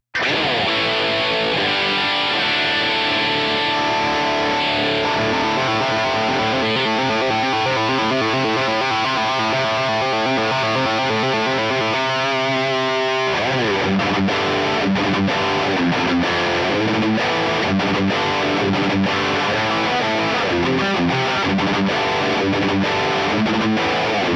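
Heavy, saturated electric guitar riffing through a NUX MG300 amp modeler on a Rectifier-style amp model, thick crunch, continuous and loud, shifting to choppier chugging partway through.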